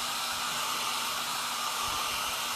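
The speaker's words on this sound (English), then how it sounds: "I'm just going to give it a quick dry, cool setting on a blow dryer." A blow dryer on its cool setting runs steadily from start to finish, a close, even whoosh of air drying chalk paste used for chalk couture.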